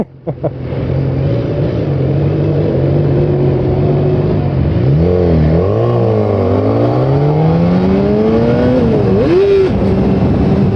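A 2015 BMW S1000R motorcycle accelerates in road mode, its engine note climbing and falling through several gear changes in a continuous loud, close roar, with no talk over it.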